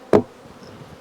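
Honey bees at a hive during queen rearing, one brief close buzzing burst as a bee passes near, then fading to a faint background hum.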